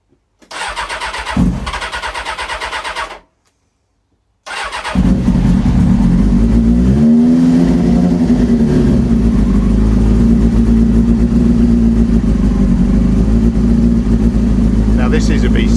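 A Honda CB400 Super Four motorcycle cranks briefly, falls silent, then fires and settles into a loud, steady close idle with a slight rev early on; a voice speaks in the background.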